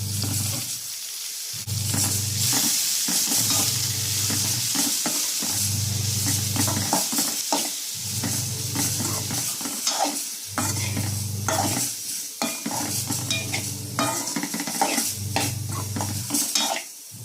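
Beans poriyal with coconut is stirred in a hot pan, a spatula scraping in regular strokes about every second and a half over a steady background sizzle.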